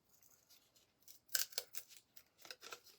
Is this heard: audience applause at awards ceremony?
no